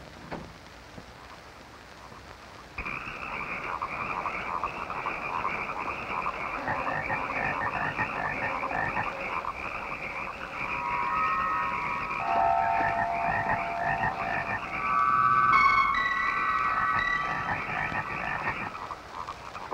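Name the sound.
frogs croaking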